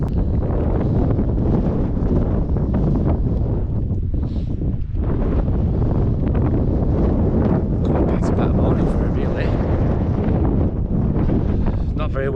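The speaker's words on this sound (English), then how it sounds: "Very windy" Strong wind buffets the microphone on an open fell beside Scales Tarn below Sharp Edge on Blencathra, a loud, continuous roar that gusts and surges for the whole stretch, with a brief lull partway through.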